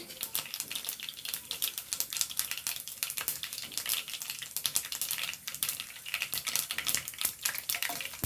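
Seasoning for kurukku kalan, including fenugreek, fries in hot oil in a pan, giving a steady, dense crackle and spatter that runs the whole time at moderate loudness with no talking.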